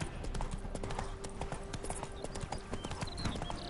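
Horse hooves clip-clop in a steady walking rhythm in a video game, the horse named as spooked by ghosts, with quiet ambient game sound beneath.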